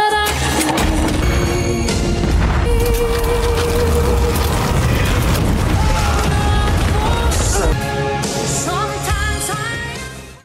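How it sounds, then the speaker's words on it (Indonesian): A TNT explosion blows up the town of Playmoreville in a film: loud, heavy booms and rumbling blasts run through the whole scene, layered with dramatic music and other film sound. "ia akan meledakkan Playmoreville menggunakan TNT yang memang sudah disiapkan sebelumnya"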